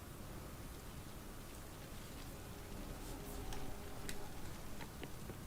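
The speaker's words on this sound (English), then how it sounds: "The rain's getting heavy." Heavy rain in the video game Wuthering Waves: a dense, steady hiss of downpour with scattered sharper drip ticks, loud and enveloping throughout, with no voices.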